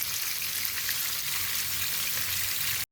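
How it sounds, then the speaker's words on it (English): Prawns and a few pieces of calamari frying in a pan give a steady, dense sizzle and crackle, close and unbroken for about three seconds before cutting off abruptly, with no voices. "So these are our prawns frying."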